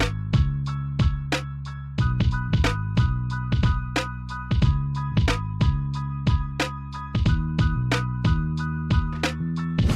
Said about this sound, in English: so along with the drums, my keyboard and my bass line, my beat sounds like this